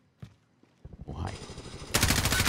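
Video game gunfire: sparse shots, then rapid automatic machine-gun bursts that build and grow louder toward the end.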